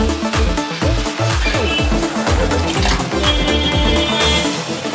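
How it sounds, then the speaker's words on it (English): Water is poured into a pan of Nepali potato and cauliflower curry, a close, continuous splashing and gurgling pour that bubbles with rising, shifting tones for several seconds without talk. "let me add some more water"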